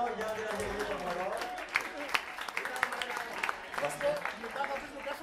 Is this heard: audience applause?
yes